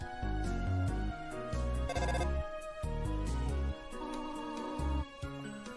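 Telephone ringing in the video game Undertale, a looping electronic ringtone melody playing loudly and continuously with steady musical notes throughout.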